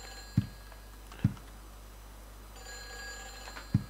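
A telephone rings in a room in the video game Silent Hill 4: The Room, with three sharp, evenly spaced rings over a low, quiet hum.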